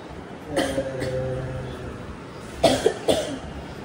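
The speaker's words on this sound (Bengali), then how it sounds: "তুই বিন্দাস কাশ, কোনো চিন্তা নেই।" A person coughs a few times, a short burst early on and a louder cluster of harsh coughs near the end, close to the microphone.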